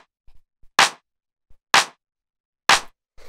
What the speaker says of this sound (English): then we have the clap, which sounds like this.